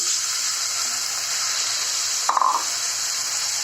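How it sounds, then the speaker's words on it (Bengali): Hand-mashed boiled broad beans fry in a pan, a steady bright sizzle running throughout, with a brief clink of a utensil partway through and no voices. "হালকা একটু লাল করে নিয়ে দিয়ে দেব বয়েল করে রাখা হাত দিয়ে চটকানো সিম"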